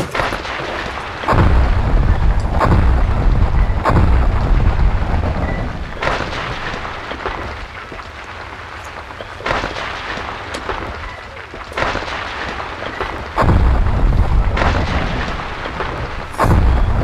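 Blocks explode in the Roblox game Natural Disaster Survival, giving loud, booming, rumbling blasts that recur every few seconds in a continuous thunderous roar, with a voice speaking briefly.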